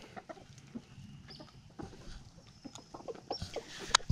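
Roosters and chickens cluck and squawk in a backyard flock, with short scattered calls close by and a sharper cry near the end, no talking.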